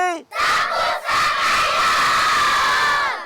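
Crowd in Mayotte shouting and cheering together, a loud sustained roar of many voices with rising whoops, a brief dip, then continuing strongly to the end.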